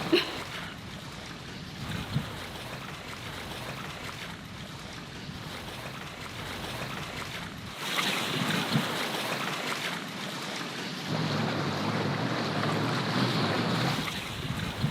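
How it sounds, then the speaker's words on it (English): A sailboat travels up the Rio Dulce river, a steady wash of water and wind noise buffeting the microphone throughout, with no talking and slight swells in loudness. "here we are, sailing up the Rio"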